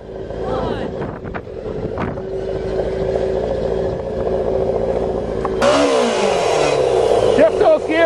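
A motorcycle-powered dune buggy engine runs loud and close, with the idle building into revving, a sharp shift in tone midway and heavy wind buffeting the microphone throughout.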